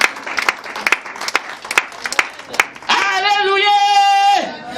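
Church congregation clapping together in short, uneven bursts for about three seconds, then a loud sustained tone with stacked harmonics takes over until near the end.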